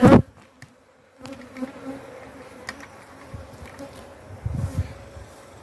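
Honey bees buzzing steadily during a cutout colony hive inspection, a close continuous drone with swelling passes of individual bees and a brief loud knock at the start, no speech.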